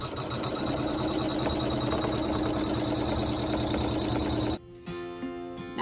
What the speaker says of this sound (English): hit the start button and the machine will sew a placement stitch